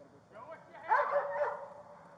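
Dog barking at a police shooting scene, a short burst of yips and barks heard through a body-worn camera, fairly faint and mixed with some voice.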